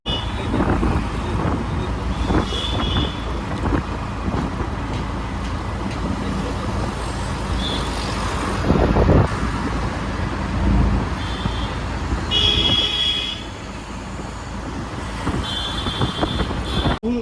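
Riding inside a KSRTC express bus through traffic: a constant engine and road rumble with wind buffeting, passing vehicles, and a few brief higher-pitched horn-like tones.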